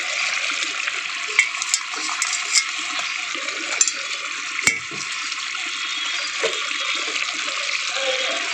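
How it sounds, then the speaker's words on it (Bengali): Pre-fried fish goes into a simmering chilli curry, giving a continuous bubbling, hissing sizzle with scattered clinks and splashes, close up and steady, with no one talking. "ঝালটা ফুটে গেছে, ভেজে রাখা মাছগুলো দিয়ে দিই"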